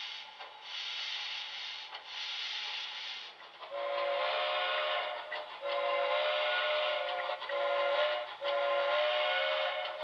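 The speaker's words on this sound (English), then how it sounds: "The whistle I picked is playable, meaning that it raises in pitch when you apply more pressure" A tinny steam-style whistle from an HO-scale model steam locomotive's DCC sound decoder sounds in repeated long blasts, the tone shifting in pitch and sustaining over a soft chuffing background, small and close like a speaker.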